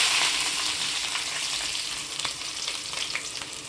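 Chopped onions fry in oil for Chettinad chicken sukka, a loud, dense, continuous sizzle with occasional crackles and light stirring, close to the pan and without voices.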